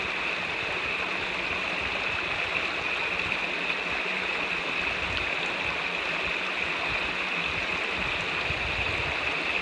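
A small stream rushes steadily where it flows into the Rogue River, a close, continuous hiss of running water without pause or voices.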